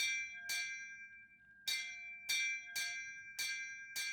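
A thin, high bell rings in the Tales of Arise video game. Seven sharp strikes fall at an uneven rhythm, each with a short ringing decay, over quiet ambience.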